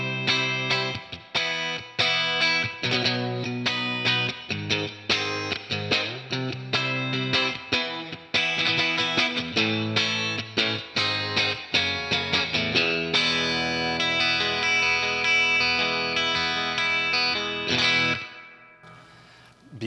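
Clean electric guitar tone run through a Rockman pedal, X100 or Sustainor, with chorus and echo shimmer, played as a busy riff of plucked notes and chords that rings out and fades near the end.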